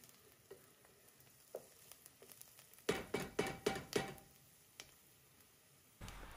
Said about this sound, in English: We just want to sweat that for a few minutes until the onions are a little translucent and begin to get a little color